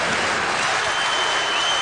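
Crowd in a college basketball arena applauding departing seniors, a brief loud burst of dense clapping and cheering noise filling the space.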